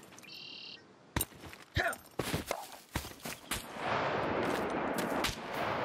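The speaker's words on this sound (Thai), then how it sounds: "เรายิงแล้วนะทำไมไม่ตาย" Gunshots fired in the survival game SCUM during a PvP event, a scattered series of sharp, loud reports at irregular intervals, some quick doubles, with a brief electronic tone early on and a steady noisy background toward the end.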